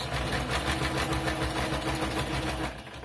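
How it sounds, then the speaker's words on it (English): A sewing machine stitches around a paper ornament in a steady, close, rapid mechanical whir lasting about three seconds, tapering off slightly at the end, with no voices. "now I will come back and sew all the way around the perimeter of the ornament"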